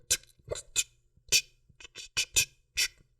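A voice makes a series of sharp, clicky chipping sounds in an irregular rhythm, imitating stone striking stone, close and fairly quiet.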